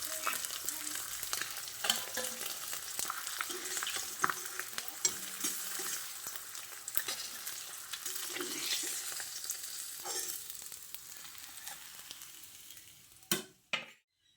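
Pieces of katla fish frying in oil make a steady, close crackling sizzle that goes on for the whole stretch, with occasional stirring clatter, and it cuts off abruptly near the end.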